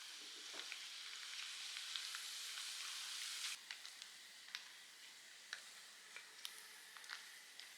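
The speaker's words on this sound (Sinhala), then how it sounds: "මම හොඳින් සෝදලා තෙත ඉවත් කරගත්ත හාල් මැස්සෝ ටිකකුත් බැද ගන්නවා" Dried sprats, washed and patted dry, frying in oil in a pan for a potato devilled dish, with a steady close hiss and sizzle that eases midway, followed by scattered sharp pops and crackles.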